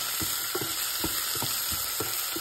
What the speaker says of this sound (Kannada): ಇದು ಒಂದು ಸ್ವಲ್ಪ ಗೋಲ್ಡನ್ ಬ್ರೌನ್ ಆಗೋದನ್ನು ಫ್ರೈ ಮಾಡ್ಕೊಳ್ಳಿ